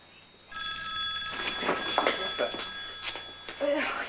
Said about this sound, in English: It's just the phone, don't worry.